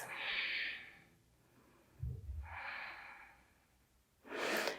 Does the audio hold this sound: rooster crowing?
no